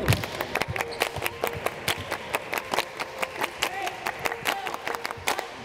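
A sports team claps in unison at an early-week basketball practice, with sharp, rhythmic claps repeating steadily and close by, and a few voices underneath.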